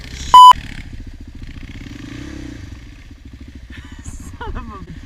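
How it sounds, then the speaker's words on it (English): A 2008 Suzuki Quadsport ATV revs its engine in a burnout, a buzzy pulsing drone with a sharp beep near the start and scraping clatter toward the end. "And there's your burnout for the episode."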